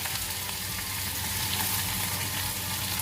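Finely chopped onion frying in a pan for a butter beans masala, a steady close sizzle with soft crackling that stays even and unbroken, no voices.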